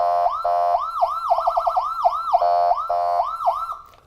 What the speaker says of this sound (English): a cycling between 3 tones, including air horn